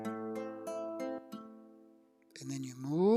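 Guitar chords plucked and strummed slowly while practicing a chord transition, several separate ringing strums that fade, followed by a buzzy, sliding shift of the chord shape, fairly quiet and close.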